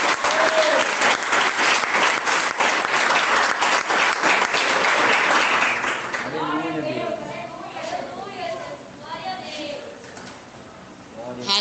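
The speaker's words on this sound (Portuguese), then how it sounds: "nossa irmã missionária Adriane Santos com mais palmas e mais glória a Deus." A church congregation claps loudly for about six seconds, the clapping thick and sustained, before it fades and a voice begins speaking over the last scattered claps.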